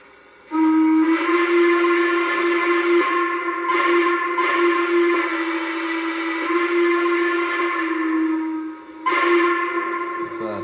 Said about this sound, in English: Norfolk and Western hooter whistle